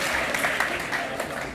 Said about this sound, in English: So give them a warm applause, please, Maarten and Nick.